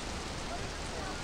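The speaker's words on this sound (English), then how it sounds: "Strong rain here" Heavy rain in a Grand Theft Auto video game pours down as a dense, constant hiss that fills the whole short stretch without pause.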